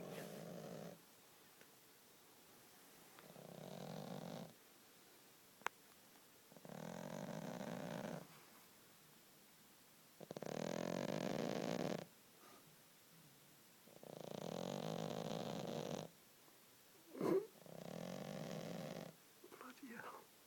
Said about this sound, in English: This is my pussycat snoring.